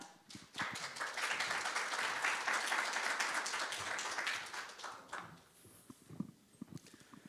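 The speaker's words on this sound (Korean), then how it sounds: "여러분 큰 박수 부탁드립니다." Audience applause at an investment briefing on smart cities and logistics, dense clapping from a seated crowd that rises quickly, holds steady for several seconds, then thins into scattered claps.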